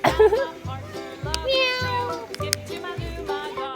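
A cat meows repeatedly up close in a cat village, with several short, clear, insistent cries in quick succession and no talking over them.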